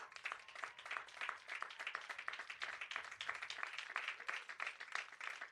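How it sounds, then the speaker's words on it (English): Graduates at a 2021 commencement ceremony applaud their family and friends, a dense, steady crowd clapping that stays fairly soft and even throughout, with no voices over it. "give them a round of applause."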